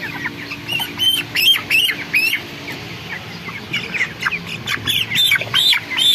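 21-day-old chickens of just under one kilogram squawk loudly and repeatedly in sharp, agitated bursts while being handled and weighed, with flapping and scuffling noises in between.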